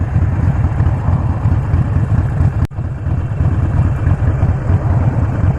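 A Harley-Davidson Sportster 48 motorcycle rides into Hurstville, a Sydney suburb, its engine a steady, loud low drone with a brief dip partway through.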